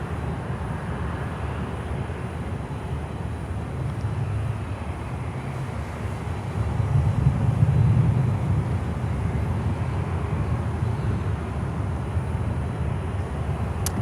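An MD-83 airliner arriving from Havana, Cuba, passes at an airport as a broad, continuous jet engine roar, swelling slightly midway and then holding steady at a distance.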